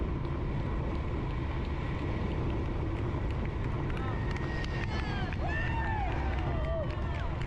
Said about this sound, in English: They were cheering.